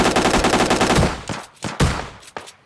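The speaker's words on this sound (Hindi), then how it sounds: "तभी इधर से एक और बोट चचा की मेरे को आवाज़ आती है फायरिंग करने की" Automatic gunfire from bots in the PUBG Lite mobile shooter: a sustained rapid burst for about a second, then several separate sharp shots and short bursts, loud and close, with no talking.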